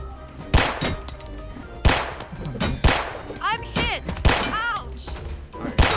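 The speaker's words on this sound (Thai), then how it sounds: "คนไหนมันใช้ปืนยิงวะ" Several separate sharp gunshots in the zombie survival game Project Zomboid, spaced about a second apart and loud, mixed with smaller clangs and chirping game sounds between the shots.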